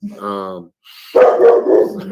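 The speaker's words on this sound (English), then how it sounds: "Sorry, it's my dog, y'all." A spoiled pet dog barks several times at close range indoors, rough and loud, overlapping someone talking.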